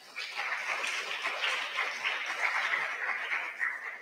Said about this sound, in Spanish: Aquí damos la bienvenida y recibimos un caluroso aplauso.